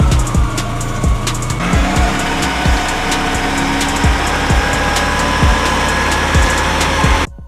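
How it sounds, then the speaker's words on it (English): A VW Mk2 Golf idling as it warms up with the coolant cap off, a low engine drone close by, overlaid with regular rhythmic ticks and thumps, cutting off abruptly at the end. "I run the car up to temperature with the cap off"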